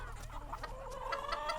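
Several chickens cluck in a short run of soft, repeated calls over a steady low background hum, close by and moderately loud.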